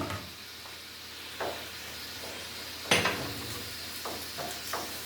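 Onions sauté in butter in a pot on a home stove, giving a continuous soft sizzle broken by a few clanks and scrapes of a utensil against the pot.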